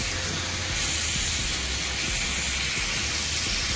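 Food cooking slowly in a pan gives a loud, constant broadband sizzle and hiss up close, steady and unbroken throughout with no talk.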